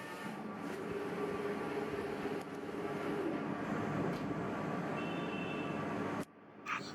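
A SAGA 1350 IIP arms cutter printing machine runs steadily, a loud continuous mechanical rumble and whir holding for about six seconds before cutting off abruptly near the end.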